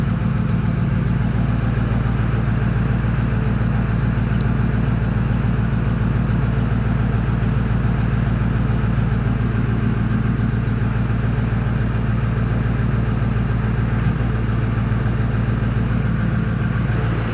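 Duramax diesel engine in a square body truck running at high idle, a loud, steady, continuous low rumble with even harmonic drone throughout and no talk.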